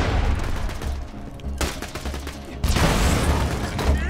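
Rapid gunfire from weapons in the Borderlands video game, with dense bursts of shots that pause briefly and then resume louder, close and harsh, with talking faintly mixed in.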